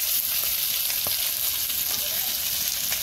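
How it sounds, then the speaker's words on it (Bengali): Rohu fish frying in hot oil for a fish and cauliflower curry, a steady close sizzle with faint crackles throughout. "এই যে মাছ মিশতেছি, মাছ দিয়ে ফুলকপি রান্না করব।"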